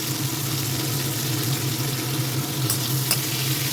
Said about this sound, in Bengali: আর এইবার লাস্ট জিনিস, আমি কপিটা ভেজে নেব।